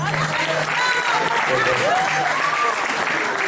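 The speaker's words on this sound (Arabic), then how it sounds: "تصفيقات على الأستاذ مستور" Audience applause at a Moroccan tribute ceremony honoring an actor, steady dense clapping from a full hall, loud and continuous, with a few voices calling out over it.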